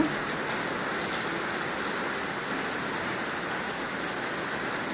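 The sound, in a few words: rain falling on a tin roof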